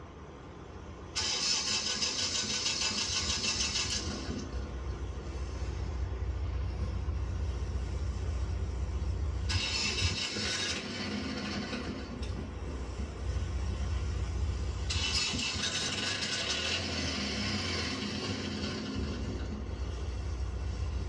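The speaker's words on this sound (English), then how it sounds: "Generator cranks over." A motorcoach generator on a Prevost Vantare Featherlite coach, apparently leaking, cranks over and runs as a steady low mechanical rumble, with bursts of loud hissing air on top, alone with no voices.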